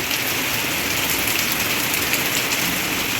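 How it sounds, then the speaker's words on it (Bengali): Loud, dense rain hisses steadily throughout, a close and unbroken downpour with no voices. "দেখো বৃষ্টি হচ্ছে কেমন"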